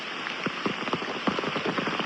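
Heavy monsoon rain falls in Konkan, a faint, steady wash dotted with close drops pattering on a surface, with no voices.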